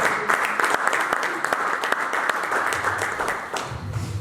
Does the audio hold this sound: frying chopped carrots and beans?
no